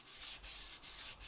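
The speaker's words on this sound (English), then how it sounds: "now I'm just going over everything and sanding everything with a 180 grit" Close, rhythmic strokes of 180 grit sandpaper rubbing back and forth over wood, four even passes in quick succession with no voices.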